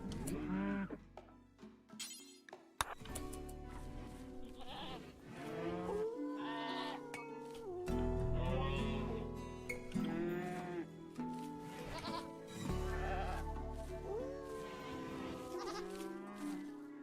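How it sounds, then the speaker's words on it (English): Goats in the RimWorld video game bleat repeatedly and loudly, overlapping wavering calls filling the whole stretch with little pause. "The goats just leg it. And make goat sounds."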